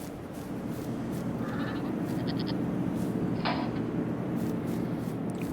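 Sheep in Farming Simulator 22 bleat a few times over a constant low ambient hum, the short bleats moderately faint and spaced out across the scene.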